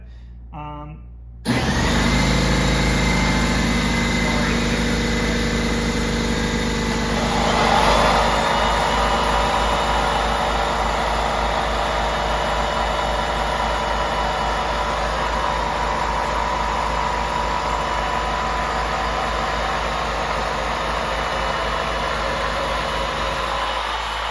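An air compressor kicks on after a brief quiet start, then runs with a loud, steady motor drone and hum for the rest of the clip, in a workshop setting during car polishing.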